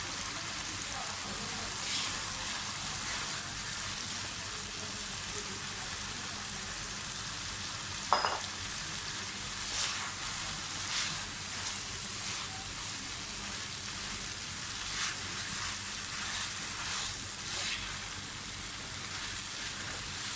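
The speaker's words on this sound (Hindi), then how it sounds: "अच्छी तरह से मिक्स करें वेजिटेबल अपने सारे चिकन के साथ और टोमेटो प्योरी के साथ स्पैगेटीज़ को" Spaghetti with chicken, vegetables and tomato puree is stir-fried in a pan, making a soft continuous sizzle with light scraping and stirring and one sharp clink.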